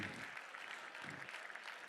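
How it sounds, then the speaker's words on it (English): Brief, muffled applause from a gala auction audience after a winning bid, a soft wash of many hands clapping, faint and distant, lasting under two seconds. "Give him a big round of applause."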